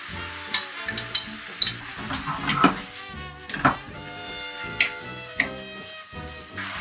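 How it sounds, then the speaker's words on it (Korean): Pork pieces sizzle loudly in a pan as seasoning sauce goes in, with a wooden spatula stirring and scraping in an irregular rhythm of sharp clinks over a steady hiss, close and alone without talk. "이제 고기가 어느 정도 익은 것 같으니까 양념장을 넣어보도록 할게요"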